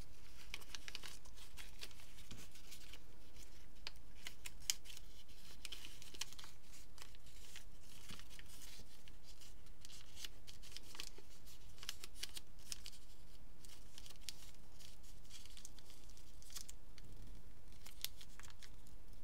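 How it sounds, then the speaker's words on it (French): Paper being folded and creased by hand for an origami crane, with steady close crinkling, rustling and sharp creasing scrapes running throughout, no talk. "Vous allez défaire vos plis et les rabattre à l'intérieur."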